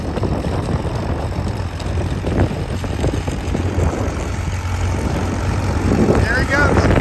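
A plowing tractor's engine rumbles steadily at a moderate distance, a constant low drone that grows slightly louder near the end, with faint voices in the background.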